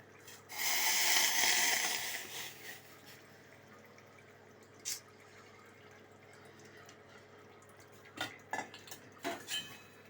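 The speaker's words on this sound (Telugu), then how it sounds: "స్పూన్ తోటి కలుపుకోవాలి." A spoon mixes flour with boiled water in a bowl, giving a burst of pouring and scraping at first, then quieter, scattered clinks and taps of the spoon against the dish.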